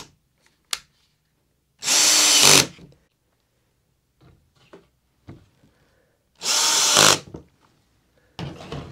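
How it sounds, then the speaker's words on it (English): A power drill drives small tech screws into a wooden plein air painting box in two short, loud whirring bursts, separated by quiet handling clicks and taps. "Got a few little screws like so, pretty simple, just tech screw them on."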